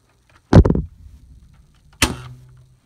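Nerf crossbow blaster firing: a sharp snapping release followed by a rattle of the limbs, then a second crisp clack a moment later, close and loud with nothing else around.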